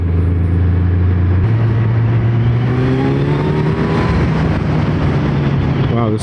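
Kawasaki Z900 ABS motorcycle with a 950cc inline-four engine accelerating loud and close, the tone climbing steadily through a gear change, with a rider's voice over it.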